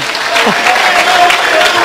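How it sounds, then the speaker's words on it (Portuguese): Applause from a crowd during a Portuguese-language group talk about Telexfree earnings, a steady wash of clapping with speech-like tones running underneath. "Bate palmas, gente!"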